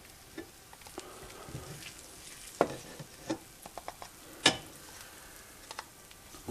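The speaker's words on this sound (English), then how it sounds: "I'm going to just scrape them into my Ninja cup" Cooked onions are scraped from a pan into a Ninja blender cup in a quiet run of scattered scrapes, taps and clicks, a few sharper knocks among them.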